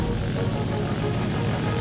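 Aircraft engine in the War Thunder video game: a steady, broadband propeller-engine drone that holds constant and fairly loud for a brief moment, with no clear speech over it.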